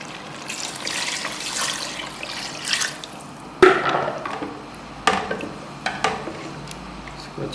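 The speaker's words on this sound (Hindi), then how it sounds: "अब इसमें हम तकरीबन 1 जग पानी का डाल देंगे।" Water is poured from a jug into a pot of beef nehari with browned flour, spices and meat, giving soft splashing and pouring with a few sharper clatters, fairly faint and close.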